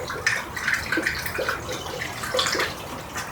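Antifreeze coolant gushes and splashes out of a Nissan 240SX engine in a steady, fairly faint pour with a few small bursts, heard alone.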